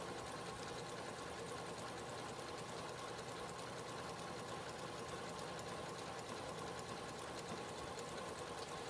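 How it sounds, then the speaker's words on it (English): A sewing machine stitching binding down onto two pillow back pieces, a steady fast mechanical whir with a fine rapid needle rhythm, fairly quiet and unbroken throughout. "we are sewing down the binding on our two back pieces"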